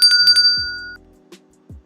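A notification bell sound effect chimes with a few quick bright rings and a sustained high tone that fades out, followed by soft low swooshing blips and no voices.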